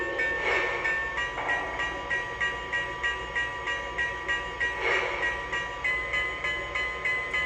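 A Lionel brass hybrid Union Pacific Challenger model locomotive bell rings in a steady, rapid repeating pattern, bright metallic dings pulsing evenly with no talking.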